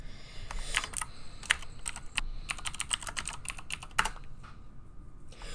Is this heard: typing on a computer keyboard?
yes